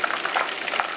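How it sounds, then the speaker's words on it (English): Turkey croquettes deep-frying in hot oil in a pan give a continuous close bubbling sizzle with fine crackling, heard alone. "The croquette have been frying for 3 minutes."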